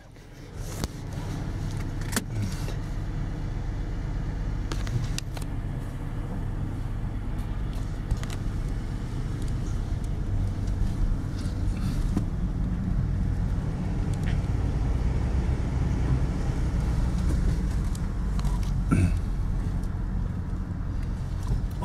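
A 2013 Ford Interceptor sedan with a 3.5L EcoBoost engine and all-wheel drive drives along a road, a steady, loud low rumble of engine and road noise heard from inside, with occasional clicks and rattles.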